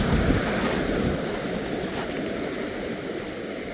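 Surf rolls steadily onto Wainuiomata Beach near a river mouth, a continuous broadband wash with wind noise, loudest at the start and easing slightly, with no voices.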